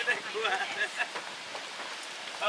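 Steady storm rain pattering on a surface on a mountain, with scattered drops standing out, while voices talk over it.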